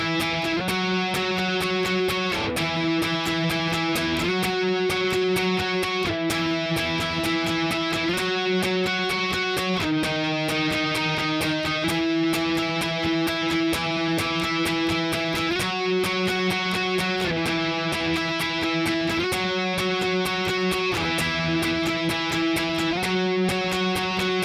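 Electric guitar plays a pre-chorus: sustained, strummed octave chords with steady rhythmic muted strokes between them, continuous and loud, with no voices.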